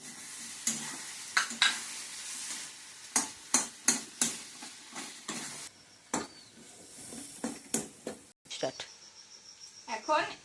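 Boiled potatoes coated in turmeric and salt sizzle with spice paste in a pan, broken by sharp clattering stirs and scrapes that come in bursts, close by, with faint talk in places.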